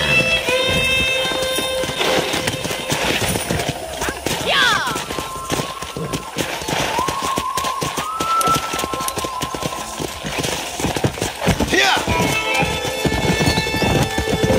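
Horse hooves clip-clop and horses neigh during a ranch scene in the video game Red Dead Redemption, with rhythmic hoofbeats, several whinnies, occasional thuds and some game dialogue mixed in.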